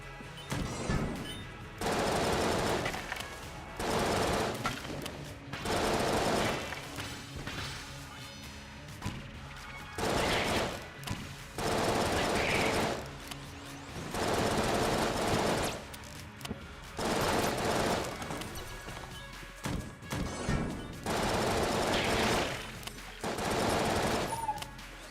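A weapon in an online game fires repeated bursts of rapid, punchy shots, each burst lasting a second or two with short pauses between them. The crackling impacts run at a moderate, steady level throughout.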